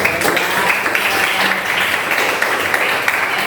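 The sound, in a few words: classroom applause for classmates who finished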